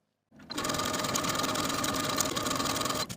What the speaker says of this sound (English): take it to your sewing machine and edge stitch close to the bottom fold of your hem all the way around